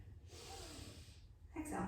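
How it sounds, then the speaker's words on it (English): Audible breath from a person in a Pilates mat class, drawn in as a soft airy hiss up close, ending in a brief voiced sound. "Pull your belly button in and breathe"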